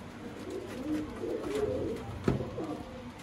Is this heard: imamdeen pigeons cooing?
yes